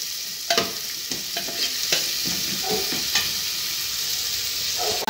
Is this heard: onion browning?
yes